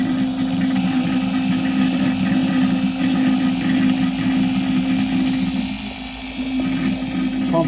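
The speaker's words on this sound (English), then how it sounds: "Pump's pretty quiet, works off 12 volts, right off the battery from the back of the machine." A quiet 12-volt Johnson marine pump, powered from a 2004 Arctic Cat 500 4x4's battery, hums steadily while extracting oil through the dipstick tube, a constant close whine with a brief dip near the end.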